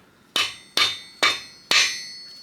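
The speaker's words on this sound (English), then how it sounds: "Trusty mallet, we're not like whacking on it, we're just setting it so that it gets seated fully." Four crisp mallet taps seat a part on a turbo Miata engine at a steady pace, each a sharp ringing knock with a short decay, close and fairly loud.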